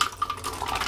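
Canned chickpeas and their liquid pour into a blender jar for homemade hummus, a brief close splashing and glugging of water and beans with faint clinks of the container, heard alone without talk.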